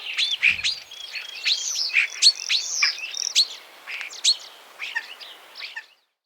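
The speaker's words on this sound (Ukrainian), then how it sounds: "А тепер послухаємо, як співає шпак." A busy, continuous jumble of chirps, whistles and clicks from a single starling, lively and fairly near, lasting several seconds before stopping.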